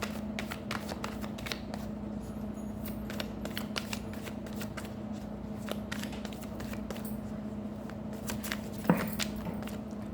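Tarot cards being shuffled by hand close by, giving continuous soft riffling and flicking with a steady low hum underneath and no voices.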